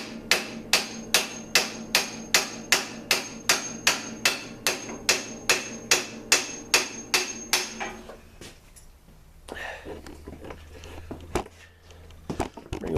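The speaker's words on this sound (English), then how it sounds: "I'm just gonna keep whacking on it." Hammer blows on a metal part of a Jet Star 3 ride, a fast steady run of about twenty sharp ringing strikes, then stopping and giving way to quieter clatter and handling noises.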